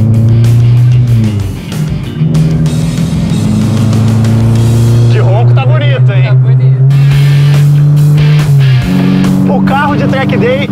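A Peugeot track day car accelerates hard, its loud engine note climbing in pitch and dropping sharply at each gear change before rising again, close and continuous.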